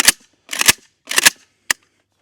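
Rifle fitted with a Texas Weapon Systems Gen3 dust cover, heard as four sharp, close cracks at uneven spacing, the last one shorter and cleaner, with silence between them.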